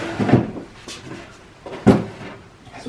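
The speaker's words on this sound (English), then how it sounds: "The drawers come out pretty far." Drawers of a Lego-inspired mobile tool cabinet slide out with two close wooden knocks and brief scraping, nearby and without talk.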